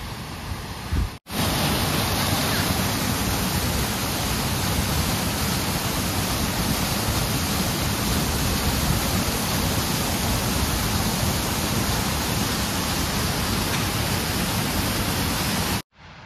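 A mountain waterfall with strong flow on a high-altitude trek roars as a steady, loud, broadband rush that continues unbroken and close, cutting off abruptly near the end.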